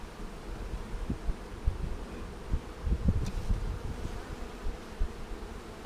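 A honey bee swarm hums around a bait box, a continuous low buzz with single bees swelling louder as they pass near the listener. No voices break in.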